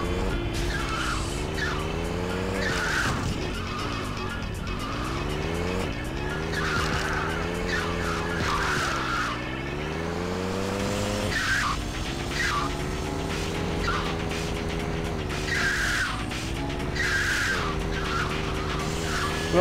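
Cars in the top-down game GTA 2 drive and skid almost without pause, with loud engine drones rising and falling between repeated tire squeals and screeches, and no talk over them.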